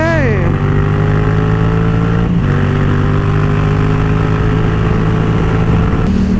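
A motorcycle rides along the road with a steady, close engine drone. Its pitch drops early, then shifts near the middle and again at the end, like gear changes.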